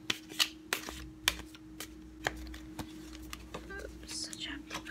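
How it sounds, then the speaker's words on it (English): Tarot cards are shuffled close up in quiet, soft riffles and taps, with several brief sharp snaps among faint rustling and whispered talk. "let's go ahead and shuffle."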